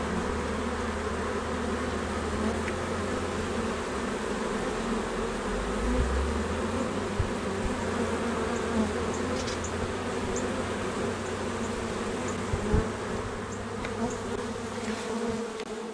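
A swarm of honey bees buzzes steadily and densely, a continuous layered drone close by with individual bees flying past now and then, and no voices.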